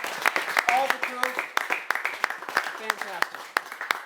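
A film crew claps on set at the wrap of a feature film, a steady patter of hand claps from a small group running under someone talking over it.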